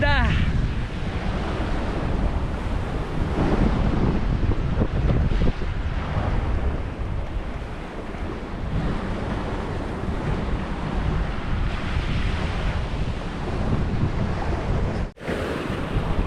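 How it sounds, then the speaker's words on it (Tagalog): Strong ocean waves surge and crash against rocks near a lighthouse in a continuous heavy roar, with wind buffeting the microphone throughout. "ang lakas ng alon. Umaalon ngayon dito."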